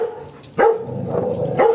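Dogs bark and yip while play fighting at home, two sharp close barks with growly whining between them, loud and without talk.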